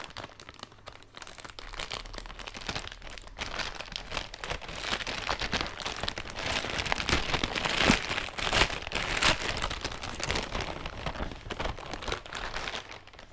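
Paper and plastic packaging from a Bergère de France wool yarn parcel crinkles and rustles steadily as it is unwrapped, a close, continuous crackling texture with no voices.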